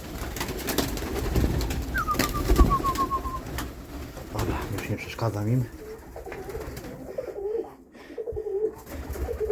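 Pigeons coo in low, throaty rolls in an open dovecote beside a nearby voice, with a whistling chirp and rustling in the background.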